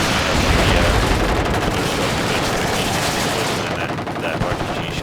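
Dense, loud bursts of machine-gun and cannon fire from a BMP and a T-80 tank in the video game WARNO, crackling continuously at close range before easing slightly toward the end.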